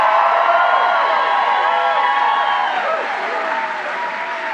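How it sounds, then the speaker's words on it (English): Dense audience applause fills a room, a steady wash of many hands clapping with some cheering, sustained throughout and easing slightly toward the end. "let's give a round of applause to John Featherson and Steve Robinson."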